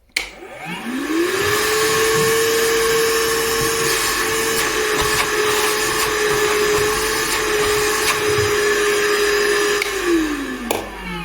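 A battery-powered handheld vacuum runs at full suction after spinning up, holding a loud steady whining drone for about nine seconds before winding down, with no talking.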